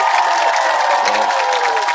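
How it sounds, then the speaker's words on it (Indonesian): Studio audience on an Indonesian talk show breaking into applause and cheering, a loud dense wash of clapping and crowd noise, steady and sustained with a tonal hum running underneath. "Tepuk tangan dong."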